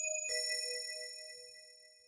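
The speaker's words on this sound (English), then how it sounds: "Got this other bell, it's called wave bells xb5080," A synth bell patch called Wave Bells XB5080 in FL Studio strikes two notes together, a bright sustained chime with long ringing overtones that slowly decays, heard alone.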